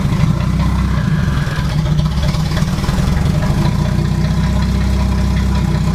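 A Toyota MK4 Supra engine running roughly, a loud, close, uneven low rumble that holds steady without clear revving, no voices.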